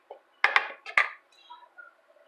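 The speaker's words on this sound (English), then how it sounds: "We're just going to give that a quick stir together." A spoon stirs dry pancake ingredients in a small bowl, giving a few quick, close clinks and scrapes against the bowl, followed by softer faint rustling.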